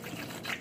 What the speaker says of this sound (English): So now we're gonna add water.